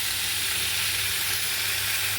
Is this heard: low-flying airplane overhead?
no